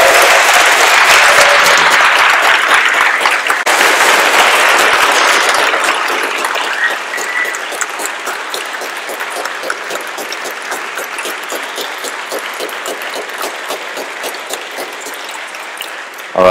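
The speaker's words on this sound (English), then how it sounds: "So if you can give a round of applause to Morten and also to Daniela, please." Conference audience applauding at the close of a scientific talk, a dense sustained clatter of many hands that is loud at first, then eases to a steadier, thinner patter that carries on for over ten seconds.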